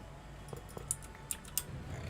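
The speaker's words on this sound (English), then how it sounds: "You can hear me rapidly clicking." Quiet, rapid mouse clicks during a modded Minecraft survival game, a handful of sharp taps spaced irregularly over a low room hiss.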